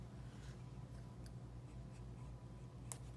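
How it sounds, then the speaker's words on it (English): Faint, steady rubbing of an eraser over pencil lines on paper, soft and continuous with a few small scratchy bursts, close up and quiet. "now I'm going to erase those extra lines"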